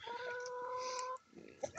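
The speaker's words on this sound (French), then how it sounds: "là c'est le petit coq fauve que vous venez d'entendre" A small fawn-coloured rooster crows once in a long, sustained call lasting about a second, loud and near, followed by quieter farmyard rustling and faint clucks.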